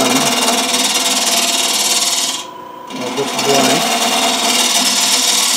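A wood lathe turns a hollow vessel while the tool cuts, a loud steady whirring hiss with a brief drop where the cut stops before it resumes, close up, with no talk.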